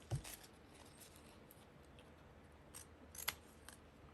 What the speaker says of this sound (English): So I've just got my pinking shears and I'm just going to kind of cut it in a V.